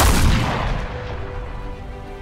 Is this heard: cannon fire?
yes